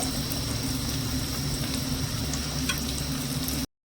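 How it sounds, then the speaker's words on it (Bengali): Paneer pieces frying in a pan, a loud, steady sizzle over a low rumble with occasional stirring scrapes, close by and without talk, stopping abruptly at the end. "আমি নেড়ে হালকা করে খুব সুন্দর করে ভেজে নেব তো বন্ধুরা এখানে দেখুন পনির গুলো কিন্তু আমার খুব সুন্দর ভাবে ভাজা হয়ে গেছে"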